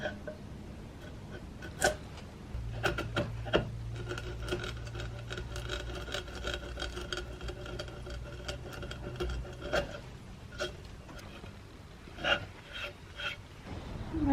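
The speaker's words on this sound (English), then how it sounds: "I'm going to start off with 120 grit." 120-grit sandpaper rubs against a cheap wood desk in a series of irregular, close rasping strokes, with a low steady hum underneath for much of the time.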